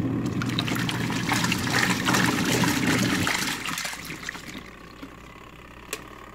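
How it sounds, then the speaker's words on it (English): Water drains from a 2015 Whirlpool Cabrio washing machine through a small slit into a bucket, a steady close trickle and splash that thins to sparse drips near the end, with no talk. "There's a little slit right up here that allows for excess water to escape. And as it escapes, it'll drain down into the bucket."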